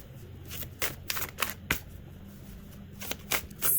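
Tarot cards being shuffled and drawn up close, with a run of crisp papery riffles and slaps in irregular bursts over a faint background hum, with no talking.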